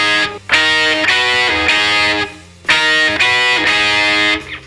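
Electric guitar with distortion playing a punk-rock lick of minor-scale double stops, two similar phrases of ringing paired notes, loud and close.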